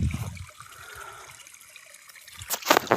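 Irrigation water trickles faintly and steadily into a farm field with garlic crops, then splashes more loudly in bursts toward the end.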